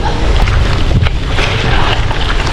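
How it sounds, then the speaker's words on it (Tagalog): Strong wind buffets the microphone during a long gravel bike ride, a loud, steady roaring rush with gusty swells throughout and no clear voices. "Lakas ng hangin."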